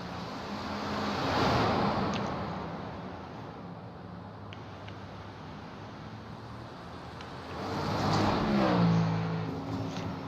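Ferrari GT3 race car engine roaring in a racing video game set at Bathurst, steady droning with two louder swells of revving as the car accelerates, no voices.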